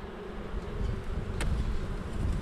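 A honeybee colony hums steadily from an open hive as a frame is set in, a dense, continuous close-up buzz with no talking.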